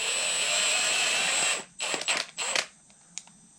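Wire strippers scraping and twisting along a bolt's threads to clean them: a steady high grinding hiss for a second and a half, then several short rasping strokes, close up and without speech.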